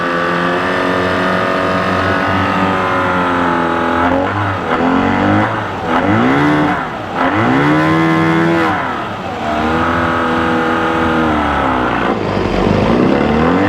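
A 1977 Johnson 9.9hp Seahorse outboard motor with a fault runs loud and close, its pitch sagging and recovering in repeated bogging dips when put in gear.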